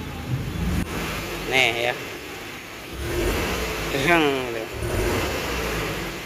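Car engine revved from inside the cabin of a car with rough running, shaking and dry exhaust, two swelling bursts of throttle rising and falling under a voice.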